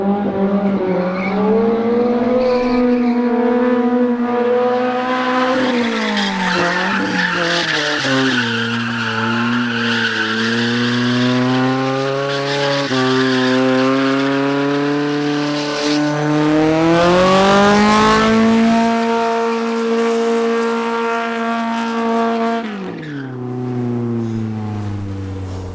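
Volvo 740 drift car sliding with squealing tires and a loud, blaring exhaust, the engine note rising and falling continuously throughout, close and dominant with no speech.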